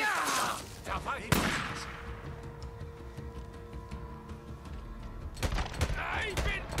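Sharp gunshots in the game Days Gone crack at the start and again near the end, with a mechanical ticking hum between them and a voice talking underneath.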